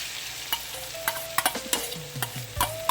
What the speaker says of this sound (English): so I'm going to add my egg.